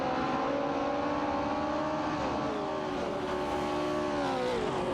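V8 race cars, among them a Holden Torana A9X and a Maserati Bora, drone through a video game race, several engine notes overlapping and sliding in pitch as they change gear, continuous and fairly loud.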